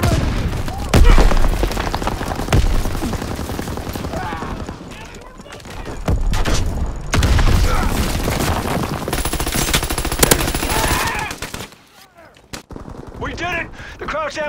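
Explosions and heavy gunfire from an ammo supply being destroyed in the wartime shooter Call of Duty WWII, a dense continuous barrage of blasts and rattling shots with brief lulls and a sudden drop near the end.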